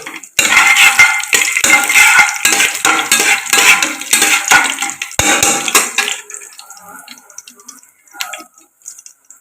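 Fennel seeds tossed into hot oil in a pan while preparing mutton biryani, giving a dense, loud sizzling crackle with clinks of a utensil for about six seconds before it settles to a faint fizz with a few light taps.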